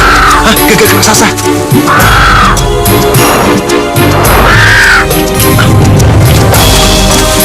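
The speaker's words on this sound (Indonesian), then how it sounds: "gagak raksasa." A giant crow from a fantasy drama caws loudly and harshly several times in a row, rising arched calls over a dense, dramatic music score, with heavy crashing impacts landing between the caws.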